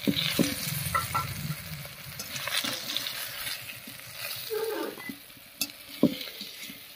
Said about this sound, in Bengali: কারকল একদম রেডি হয়ে গেছে ভাজা।